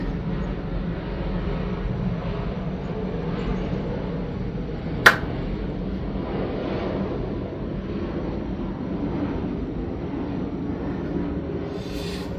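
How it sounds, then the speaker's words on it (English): An airplane passes overhead, a steady broad roar and rumble that holds at even loudness throughout, broken only by one sharp brief click midway. "there's a plane going over"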